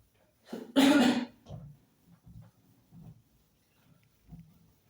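A person with a seasonal cold coughs hard once, followed by a few softer throat-clearing coughs and breaths, close and otherwise quiet.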